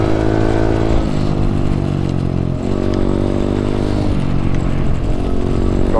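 A Chinese SSR125 pit bike engine drones loud and close while being ridden along a trail, its pitch dipping and climbing again with the throttle a few times, with steady wind noise throughout.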